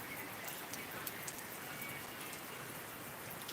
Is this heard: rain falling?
yes